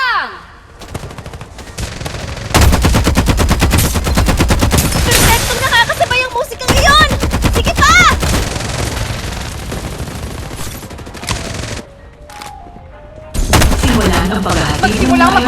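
Loud bursts of automatic gunfire from the battle royale video game Farlight 84 arrive in rapid rattling volleys, broken by short pauses, with game effects and a voice briefly heard between shots.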